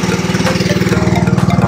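A fishing boat's engine running, a loud, close, steady low mechanical chugging with a fast regular pulse and no talking.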